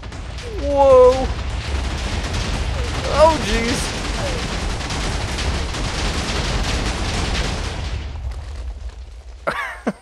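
A loud, rumbling explosion in the Minecraft video game roars continuously for about eight seconds before cutting off, while a man lets out surprised exclamations over it.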